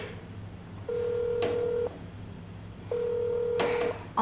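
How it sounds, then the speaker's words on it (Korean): Telephone call being placed: two steady electronic ringback tones about a second long each, separated by a pause, with a brief click and a short beep at the end, and no voices. "징징이한테 전화해봐야지."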